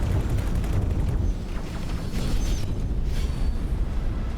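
Spaceship turrets firing in X4: Foundations, a heavy, rumbling barrage of rapid booming shots that runs continuously and loud throughout, with no voices.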